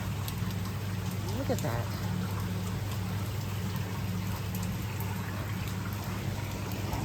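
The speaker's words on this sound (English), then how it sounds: "here comes the rain again" Steady rain falls along a long-distance hiking trail, a constant dense hiss with no pauses; a voice speaks briefly over it.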